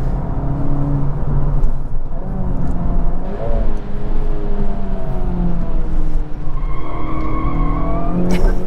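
A 2024 Acura Integra Type S cornering hard through a tight right-hander, engine droning steadily under loud tire squeal and scrub that rises and falls through the turn, heard from inside the car.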